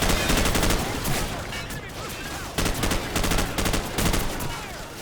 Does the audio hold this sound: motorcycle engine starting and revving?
no